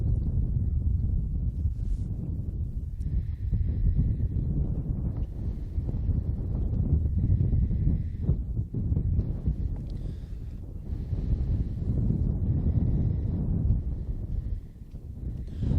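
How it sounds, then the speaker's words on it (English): Strong, gusting wind roars steadily across outdoor tennis courts during a high school girls' match, a dense low buffeting rumble that swells and eases with no clear speech. "the wind, if anything, has only strengthened in force"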